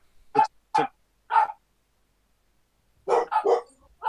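A dog barks in two short bursts, then after a pause three or four more close together, loud and near with no talk over them.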